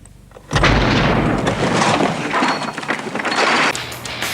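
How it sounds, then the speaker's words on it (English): A sudden booming explosion sound effect from a true crime documentary bursts in after a quiet lead-in, then a dense, roaring rumble with crackling debris carries on loudly for several seconds. "never heard the explosion"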